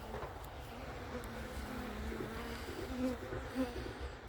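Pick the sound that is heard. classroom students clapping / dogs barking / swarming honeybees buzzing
swarming honeybees buzzing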